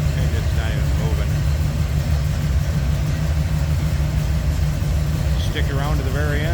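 A 1986 Chevrolet C10 stepside street rod's V8 with a 4-barrel carburetor and HEI ignition idles with a steady, smooth low rumble throughout, while someone talks briefly near the end.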